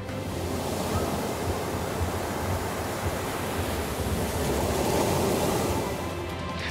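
Ocean surf rolls in a continuous rushing roar, the breaking waves swelling louder toward the end, with no voices.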